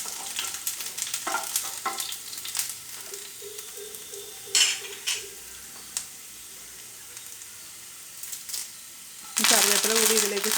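Garlic and ginger sizzle and fry in a pan while being stirred, with scraping clatters and a louder burst of sizzling near the end, as a voice speaks intermittently in the background.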